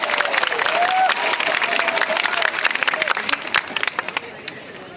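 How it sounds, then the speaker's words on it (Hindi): An audience claps steadily at a community gathering, a dense patter of many hands that fades toward the end, while a speaker on a microphone talks over it and the crowd murmurs. "थोड़ा जोर से ताली मारिए।"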